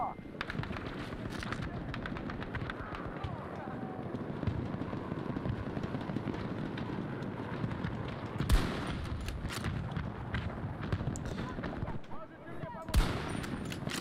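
Distant gunfire from Battlefield 2042 rings out under a steady bed of battlefield ambience, with two sharper, louder shots standing out near the end.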